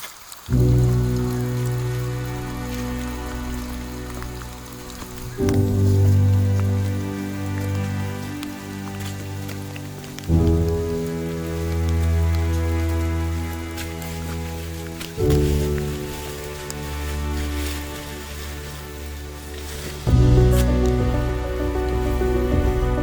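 Light drizzle on a mossy mountain forest trail during a trek on Mount Binaiya, Maluku: continuous soft pattering of raindrops over a steady background wash, with occasional louder drips and no voices.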